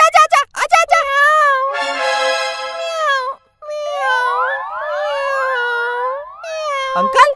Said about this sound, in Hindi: अंकल ये बिल्ली कितनी अच्छी है।